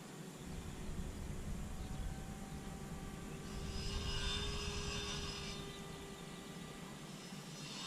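The electric motor of a Hobbyking Bixler 2 RC plane throttles up in flight, a continuous whining drone with rising tonal lines heard from a distance over steady wind noise, swelling in pitch and level midway.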